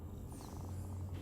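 A cat purring inside the video game Cyberpunk, a soft, steady low rumble lasting about a second, close and alone with no talk over it.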